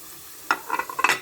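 Fried rice with mint gets stirred in a hot pan, producing a brief cluster of scraping and sizzling clatter at close range against a quiet background.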